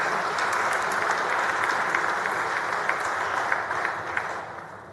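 A room full of hands clapping in the Texas Senate chamber, even and continuous at moderate distance, welcoming a group of young men in the gallery, fading toward the close.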